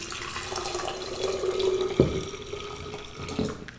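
Water runs from a tap into a container meant for boiling, a steady splashing pour with a rising tone as it fills, plus a clunk midway, heard alone while preparing fresh-cut flowers such as dahlias.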